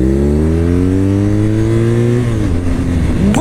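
Loud, close BMW R nineT Pure 1200 motorcycle engine from 2022, restricted, revving up with steadily rising pitch, then easing off near the end as the throttle drops; no talk over it.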